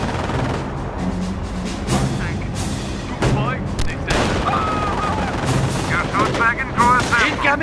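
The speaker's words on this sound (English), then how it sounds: "Incoming mortar fire!" Mortar and artillery fire in the World War II strategy game Company of Heroes, loud booming blasts with rattling gunfire, while voices shout over the battle.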